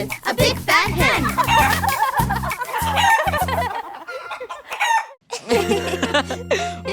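A hen clucks and a rooster crows in a children's nursery-rhyme cartoon, the loud barnyard calls laid over bright sung music, cutting out briefly before the tune returns.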